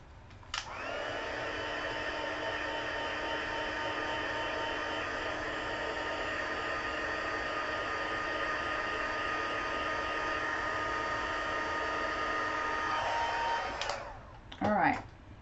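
Hair dryer blowing on a watercolor card: it switches on with a click, runs as a steady loud whooshing whine for about thirteen seconds, then cuts off, followed by a brief rustle.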